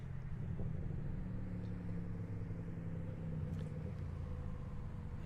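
Race cars roll slowly around a circuit on a cool-down lap at the GRIDLIFE 2021 Grand Circuit. They make a faint, steady low engine rumble with no sharp revving and no voices.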